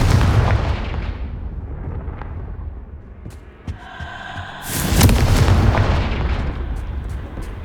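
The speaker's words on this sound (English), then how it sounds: "Confringo" In the video game Hogwarts Legacy, a Confringo fire spell goes off with deep rumbling booms and crackling blasts, then a sharp bright burst and a rolling roar that settles into a low rumble.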